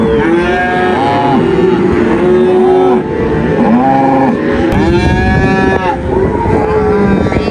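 Calves on a farm mooing loudly and repeatedly, overlapping drawn-out bawls at close range with a brief pause partway through and no talking.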